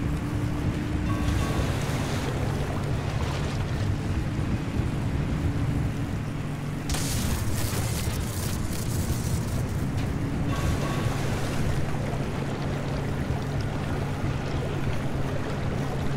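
A car in the Pacific Drive video game splashing steadily through shallow water, a continuous broad wash of spray and engine rumble with a louder surge midway.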